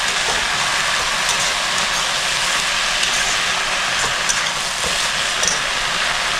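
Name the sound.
water spinach (kolmi shak) frying and being stirred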